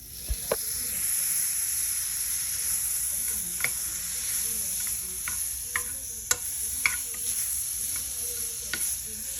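A Krabby Patty burger sizzles and hisses steadily in a hot pan, with occasional utensil clicks and scrapes as it's stirred, close and continuous, steam rising.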